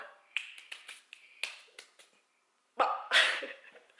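Crisp finger snaps ring out one after another in a quiet indoor space, close and fairly soft, followed by a louder burst of snapping near the end with no talk over them.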